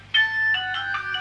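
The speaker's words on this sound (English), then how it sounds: "As soon as I do a video, the phone's ringing," A phone ringtone plays a short, bright electronic melody of a few clear tonal notes, loud and alone.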